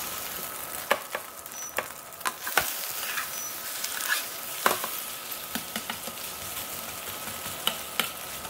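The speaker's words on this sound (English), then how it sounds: "Pan fry both sides until it's crispy and golden brown" A Korean seafood pancake topped with beaten egg pan-fries until crisp and golden, giving a close, steady crackling sizzle with scattered pops and a few clicks of a utensil, and no one speaking.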